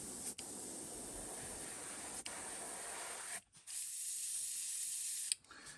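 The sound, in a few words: spray gun spraying paint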